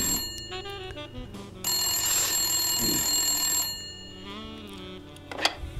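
An old-style telephone rings in the noir adventure game Blacksad: Under the Skin, a bright sustained electronic bell tone lasting about two seconds amid game ambience and short tonal cues, no speech.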